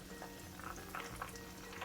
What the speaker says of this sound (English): I've been frying this for about a minute.